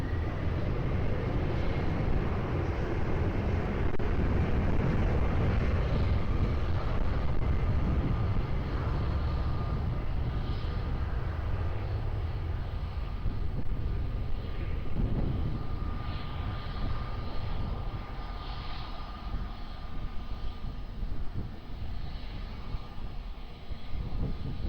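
A passenger jet approaching and landing on runway 20 at Lisbon Airport, heard as a loud, steady low engine roar that swells and fades slightly over the whole stretch, with no voices.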